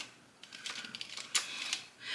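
A six-sided die clatters and rattles in a quick series of light, sharp taps lasting about two seconds, close by and fairly quiet, with no talking.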